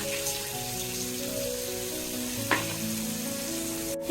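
Lentil dal frying in a pan with tomato and coriander leaves just added, giving a steady, close sizzle with faint spattering and a brief stir-like clatter midway.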